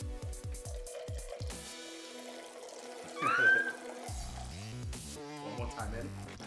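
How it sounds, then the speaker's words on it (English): A cocktail is poured into a glass by a mixologist, giving a brief watery splash partway through that is mostly buried under louder voices and tonal background sound. "And now, pour it in."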